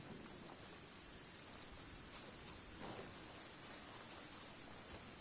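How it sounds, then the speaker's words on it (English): Steady heavy rain downpour in the video game Genshin Impact, a dense continuous hiss of falling water with no breaks, moderately loud and unaccompanied by voices. "Taking a stroll in the middle of a downpour certainly rouses the spirit."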